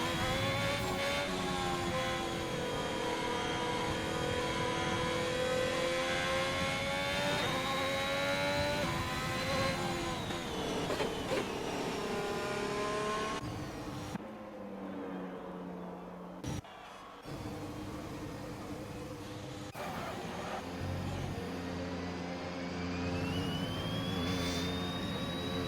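Race cars on a hot lap at the Spain circuit in a sim racing league, with high-revving engines whining loudly and shifting pitch through gear changes, fading and dropping out midway before a car climbs through the revs again.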